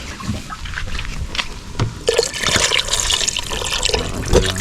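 Water pours and splashes into a pot in bursts, a louder stream starting midway with clinks of metal, added to a salted, cooking dish in a farm kitchen.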